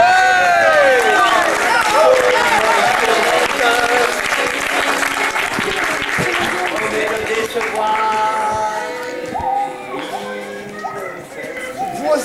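An audience in a small Paris venue applauds loudly after a magic trick, dense clapping with some cheering that stays strong throughout and slowly thins toward the end.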